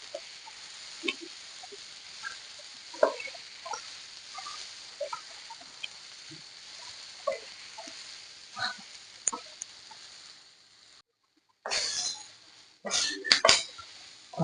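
Ridge gourd peel stirred and sautéed in a pan for chutney, with sporadic clinks and scrapes of a utensil against the pan. A louder burst of clattering comes near the end.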